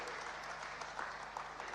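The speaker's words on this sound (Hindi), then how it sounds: "आपसे जोरदार ताली होनी चाहिए किसान चाची के लिए।" Steady applause from an audience at a ceremony honouring Kisan Chachi, a dense, continuous patter of clapping hands throughout.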